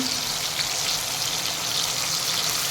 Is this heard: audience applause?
no